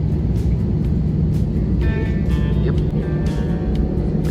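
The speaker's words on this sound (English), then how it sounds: "Started taxiing" An airliner rolling along the ground on a flight to Mecca, heard from inside the cabin as a loud, steady low rumble with brief higher whines and clicks over it.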